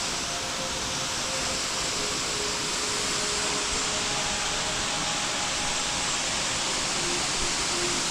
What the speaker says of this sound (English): On top of another waterfall there.